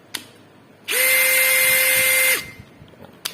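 A Makita 18V cordless drill driver in drilling mode whirs loud and close in one steady burst of about a second and a half, with a high motor whine that drops away as it stops.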